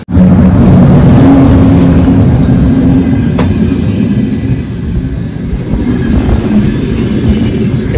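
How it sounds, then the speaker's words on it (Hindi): A train pulls into a snow-covered railway station, its loud, steady rumble and rolling wheel noise filling the air alongside strong wind, with no voices. "ट्रेन आ रहा है तो ऊपर से ना, और ये हवा लेके आ रहा है सामने से"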